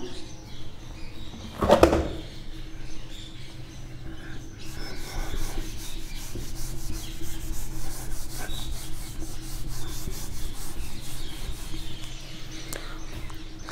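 Writing rubbed off a board, with a sharp knock near the start and then long, continuous scrubbing strokes that stay fairly quiet and close.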